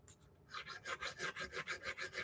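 Stainless steel guitar frets being filed and leveled, about a dozen quiet rhythmic rasping strokes in steady back-and-forth succession, close but faint, with no voices.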